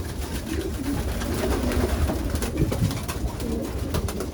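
Racing pigeons coo steadily inside a loft, many birds overlapping in a close, continuous, layered murmur of soft throaty calls.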